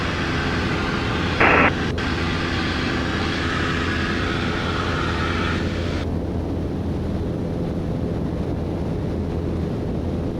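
Light airplane engine droning steadily in flight at 2,100 feet, heard from inside the cabin as a constant loud hum with wind noise, a brief bump early on and a slight drop in pitch partway through.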